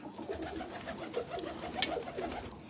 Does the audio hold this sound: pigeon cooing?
yes